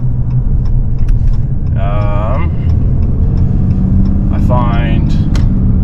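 A diesel pickup truck with a turbo rolls along pavement, its steady engine rumble and road noise continuous and close, while someone talks over it.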